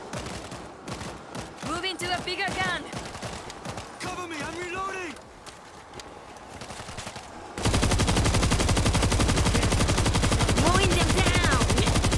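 A rapid, unbroken stream of automatic gunfire from a turret in World War Z horde mode, steady and loud, with a speaking voice over the first half and the firing becoming louder and denser toward the end.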